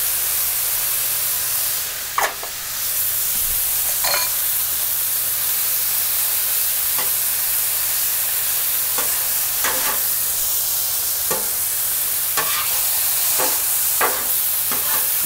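Rotel and green chilies sizzle in a pan for alligator tacos, a steady close frying hiss broken by several sharp stirring scrapes, with no talking.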